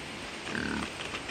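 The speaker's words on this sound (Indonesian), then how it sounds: "Yang ini bunyi babi hutan." A short wild boar grunting snort rises out of a faint noisy night background, a single low grunt lasting under a second.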